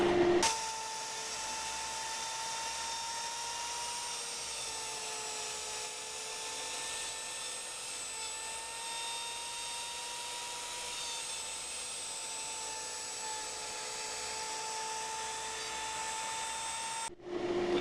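A CNC router cuts carved wooden pieces with a steady high-pitched whine, a sustained spindle tone held for most of the stretch before stopping abruptly near the end.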